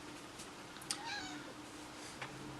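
A house cat gives a short, clear meow near the middle over a steady hiss of room noise, with a faint second cry shortly after.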